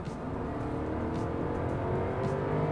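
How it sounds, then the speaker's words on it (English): A 2019 Genesis G80 sedan under full throttle, with a steady engine roar that builds slightly over a few seconds, heard from inside the car at modest volume with no talk. "That feel when you're giving it a whole full throttle shoots up 0 to 100 in no time."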